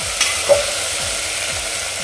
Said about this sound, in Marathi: आता हे पुन्हा मसाल्यामध्ये सर्व भाजी आपण मिक्स करून घेऊया व्यवस्थित